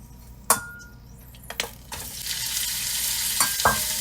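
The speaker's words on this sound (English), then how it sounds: "Drop the meat into the frying pan." Meat for Mabo Harusame sizzles in a hot frying pan, the frying hiss swelling after a few clinks and knocks of a utensil against the cookware.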